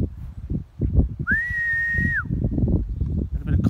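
A falconer's sharp, steady whistle held for about a second to call back a bald eagle in flight, sounding outdoors over wind and handling noise.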